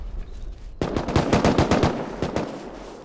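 Rapid bursts of gunfire in the survival game Rust, a fast string of sharp shots starting abruptly after a brief quiet stretch, then a few more shots after a short pause, loud and close.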